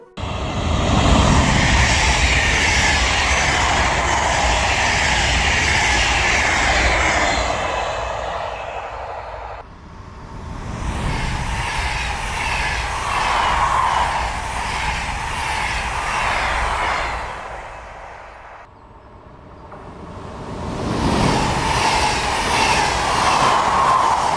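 A train rumbles past in three loud, sustained passes with brief dips between, broadband roar and rail clatter, no voices.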